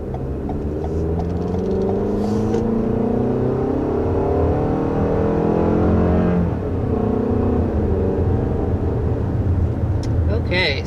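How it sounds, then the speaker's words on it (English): A 2021 Toyota RAV4's four-cylinder engine accelerates, its pitch climbing steadily as it revs up, heard from inside the cabin with a constant low road rumble. "first taking off in this 2021 RAV4, you are going to have the same engine as last year"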